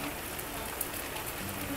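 Steady rain in the Civil War strategy game Grand Tactician, a soft, even wash of falling drops continuing throughout at low volume with no voices.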